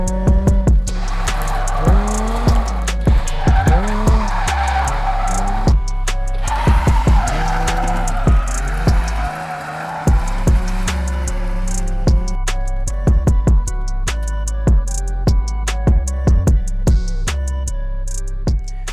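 Nissan 350Z on a street drift wheel and tire setup, engine revving hard with repeated gear changes and long tire squeals, close and loud throughout, with a brief lull midway.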